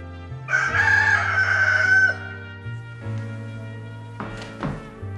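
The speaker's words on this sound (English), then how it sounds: "The rooster." A rooster crows loudly and close by in one long, drawn-out call, followed by a few clucks and soft thuds.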